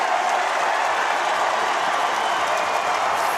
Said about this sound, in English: And now you're going to hear the roar of the crowd.